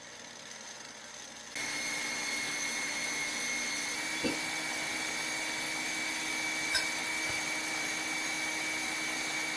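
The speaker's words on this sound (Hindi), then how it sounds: "एग वाइट को अच्छी तरह से बीट करेंगे।" An electric hand mixer beats egg whites for a snowball custard, switching on after a moment of room quiet and then running as a steady, even whine close by, with a couple of faint clicks against the bowl.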